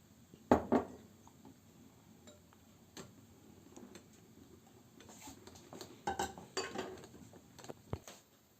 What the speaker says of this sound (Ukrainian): додаємо олію, добре перемішуємо, тісто готове